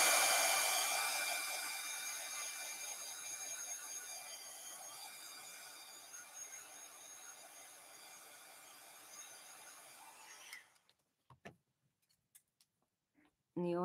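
A hair dryer blows on painted craft letters as a steady, bright whooshing roar that slowly fades in loudness, then cuts off, leaving a few faint clicks and handling noises.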